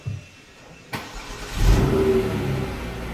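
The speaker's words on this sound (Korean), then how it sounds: "시동 걸어보세요" A Genesis G80 engine starts with a sharp click and a cranking burst, then settles into a close, steady idle hum.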